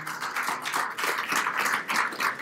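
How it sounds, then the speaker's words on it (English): A room full of people clapping steadily, a dense, sustained patter of applause without any talking. "A round of applause for that."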